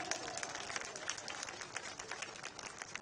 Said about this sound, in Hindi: बजाओ जोरदार तालियां।